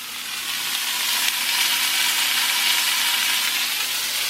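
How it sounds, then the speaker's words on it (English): Chopped zucchini sizzles in an oiled frying pan, a dense, steady crackle of frying that holds close and fairly loud from start to finish with no talk. "you're going to take the zucchini that you just cut up, and you're going to throw it into that pan"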